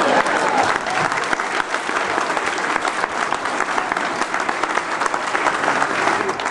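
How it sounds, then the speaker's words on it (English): Steady, loud applause from a crowd, clapping continuously throughout with no break and no clear speech. "Let's hear it for Sergeant Gibson."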